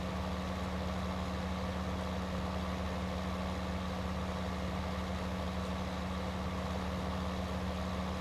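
A John Deere 9620RX tractor pulling a large planter in Farming Simulator 19 hums at a steady, low idle-like drone, faint and unbroken with no talking.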